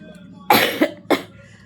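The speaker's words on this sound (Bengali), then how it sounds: "আমার শুকনা কাশি হয়েছে" A person with a dry cough coughs sharply twice, close and loud, with a brief pause between the bursts.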